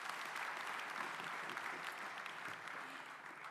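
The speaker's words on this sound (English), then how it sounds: "A big round of applause to His Excellency." An audience breaks into sustained applause for a dignitary at an urban forum in Nairobi, dense clapping from a large crowd that holds steady and then tapers slightly toward the end.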